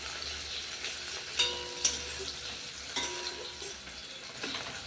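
Onions frying and spattering in hot oil, a continuous close crackling sizzle with occasional sharper pops.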